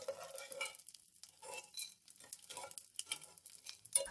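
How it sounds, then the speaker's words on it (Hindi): Food frying in ghee in a pan: a faint, close stirring and soft sizzling patter with intermittent utensil scrapes, steady and quiet. "ये देखें अभी थोड़ा सा और हम इसको फ्राई करेंगे।"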